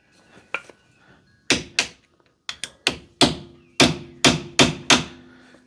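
Sharp metallic hammer blows ring out on a Daihatsu car's wheel hub, a few scattered strikes then a run of heavier, evenly spaced hits, each with a short ringing decay, close up.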